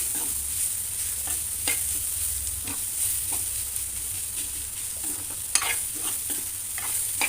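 Vegetable cutlet mixture of potato, beans and carrot being stirred and mixed in a pan, a soft steady sizzle with frequent spatula scrapes and clicks in an uneven rhythm, close and fairly quiet.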